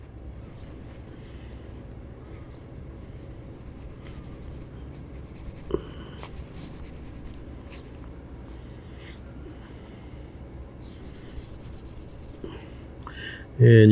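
A cotton Q-tip rubbing and scrubbing inside a Ruger LCP pistol during cleaning, a close, dry scratchy friction in repeated strokes with brief pauses.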